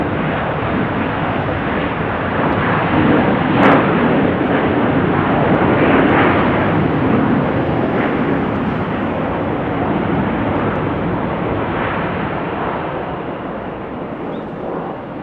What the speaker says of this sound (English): 737-700 departing